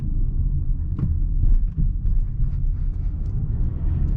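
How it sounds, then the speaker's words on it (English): A 2021 Mazda CX-5 GS rolls over a speed bump, heard from inside the cabin as a muffled low rumble with a soft thump at the bump, steady road and engine noise underneath. "go over some speed bumps, and see how the car deals with that"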